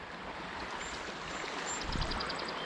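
Fast-flowing stream water in a high-water trout river, a steady broadband rushing and gurgling close by with no talk.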